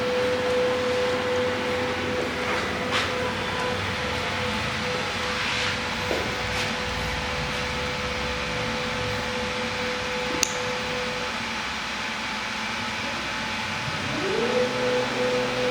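An Oxman Ultra CNC machine drives toward its homing limits, a steady close mechanical whine and hum from the motors with a faint click partway through and a rising pitch sweep near the end.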